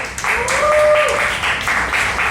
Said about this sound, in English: One more round of applause for all the comics you saw tonight.